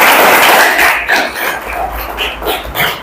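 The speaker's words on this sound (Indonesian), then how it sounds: "Tepuk tangan dulu." A class of schoolchildren claps their hands together, a dense burst of loud applause that swells and fades over a few seconds.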